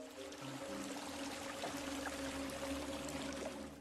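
Water pours and splashes softly in a steady stream, faint and continuous, with a low hum underneath.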